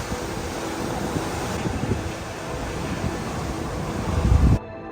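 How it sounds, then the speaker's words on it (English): Rough sea in a gale heard aboard the Norwegian Cruise Line ship NCL Star: steady low roar of wind and surging waves, building briefly near the end before cutting off. "the sea's getting a little bit rougher, I can tell"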